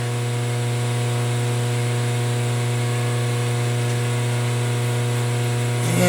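A milling machine taking a roughing cut around a half-inch radius on a carriage stop body, a steady tonal machine hum with strong harmonic drone running continuously, swelling slightly at the very end.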